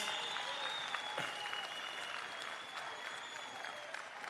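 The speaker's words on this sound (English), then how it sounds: "Comrade Collen, can you rise so that the delegates can give you a nice round of applause" Delegates at a political party provincial conference applaud steadily, dense clapping filling a large hall for several seconds without pause.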